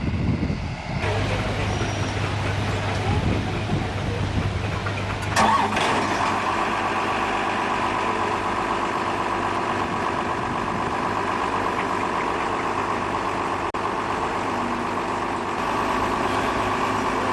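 A Case 135 tractor engine cranks and catches, then settles into a steady mid-pitched idle that holds close and constant for the rest of the stretch.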